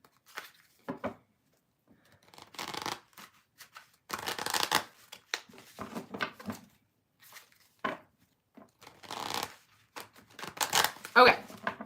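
Several tarot decks are riffled and shuffled by hand in repeated bursts of crisp card flutter and slapping, close by, with brief pauses between rounds and a voice talking at times.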